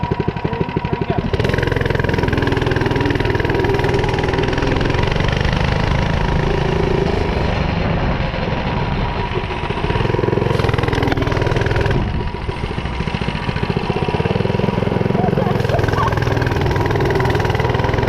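A gas-powered lawn mower engine running steadily and loudly nearby, a continuous rough drone with slight shifts in pitch and load throughout, no talk.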